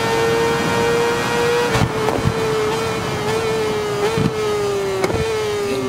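A 1000cc-class racing motorcycle in Ride 4 on PS5 during a Japan 1000 Cup career race: a steady, loud, high-pitched engine drone that holds its pitch, broken by a few brief gear-change blips.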